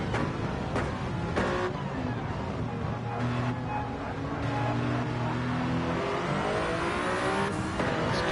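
Toyota race car accelerating hard during an IMSA series race, heard on board as a loud continuous engine roar with rising revs and gear changes, no talking.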